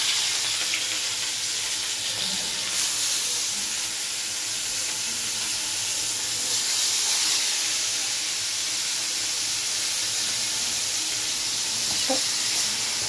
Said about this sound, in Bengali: অলরেডি কড়াইতে আমি রুই মাছ দিয়ে দিয়েছি। রুই মাছটা আমি একটু ভেজে নেব।